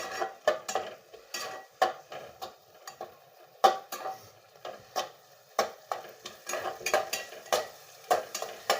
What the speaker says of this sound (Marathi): चांगला चार पाच मिनिट चांगला असा परतून घ्यायचा हा मसाला